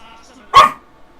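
A single sharp dog bark sounds once, loud and close, in an otherwise quiet moment.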